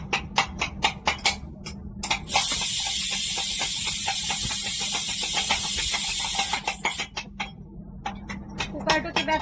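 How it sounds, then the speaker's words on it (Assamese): A kitchen pressure cooker releases a loud, steady hiss of steam for several seconds, bracketed by quick rattling clicks of the weight. Someone talks before and after the hiss. "কুকাৰটো কিবা এটা হৈছে, বহুতকেইটা চিটি দিব লাগে, তেতিয়াহে হৈ গৈ"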